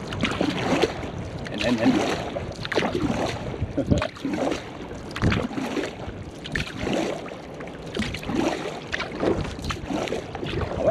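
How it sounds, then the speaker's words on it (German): Kayak paddling out on the water at Vejle, with steady splashing paddle strokes and water movement close by, wind buffeting the microphone, and someone talking over it. "Und fahren hier mal wieder vorsichtig raus."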